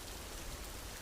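Steady cartoon rain pouring down, an even continuous hiss of drops on surfaces, soft and unbroken with no voices.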